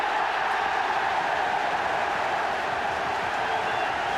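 A large stadium crowd at a 1983/84 Luton Town versus Tottenham Hotspur football match roars in a broad, sustained wash of cheering, steady and unbroken, distant-sounding.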